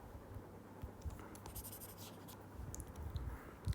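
Marker or chalk writing on a classroom board, a steady scratchy rubbing of strokes with small taps, close and fairly quiet with no speech.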